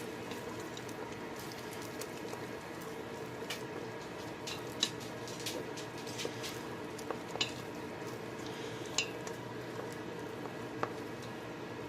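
A spoon stirs cooked steel cut oats in an Instant Pot, giving soft repeated wet scraping and sticky squelches with occasional light clinks against the metal pot, close and fairly quiet.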